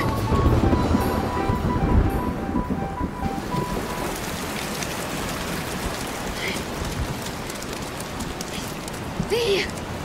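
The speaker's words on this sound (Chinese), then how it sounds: "现在下雨了吧？" Steady rain falls with a dense hiss of drops on surfaces, loud at first and continuing under people talking, with a few brief knocks and splashes near the end.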